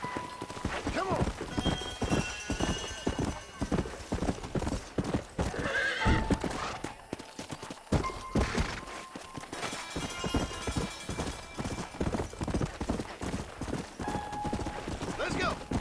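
Horse hooves clip-clopping at a run in the Red Dead Redemption video game, a steady close rhythm with whinnies, a voice urging the horse on, and other talk mixed in.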